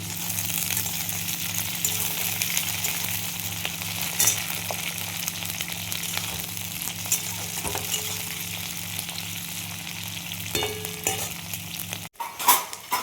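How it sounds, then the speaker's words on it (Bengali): Green chillies fry in hot oil for a pickle, giving a steady soft sizzle with occasional stirring scrapes in the pan, heard up close. "এইভাবে আমি ভেজে নেব এর মধ্যে আমি একটু ঝালের জন্য কাঁচা লঙ্কা দিয়ে দিলাম"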